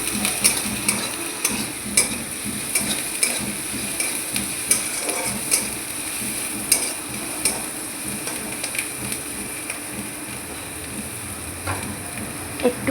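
Vegetables for veg manchurian fry in a pan with steady crackling sizzle, punctuated by regular scraping stirs of a spatula against the pan, close and fairly loud with no talking.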